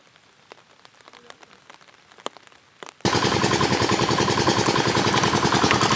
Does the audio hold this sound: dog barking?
no